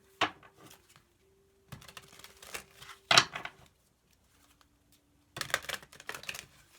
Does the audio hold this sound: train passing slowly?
no